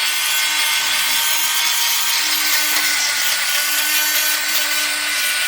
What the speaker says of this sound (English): I just take this back and lightly sand it, because the grout is so, the diamonds on this thing are so sharp